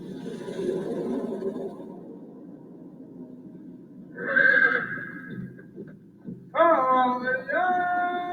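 A horse whinnies twice: first a shrill neigh, then a louder, longer harmonic whinny near the end, over a low rumbling bed of ambient sound with faint hoof noise.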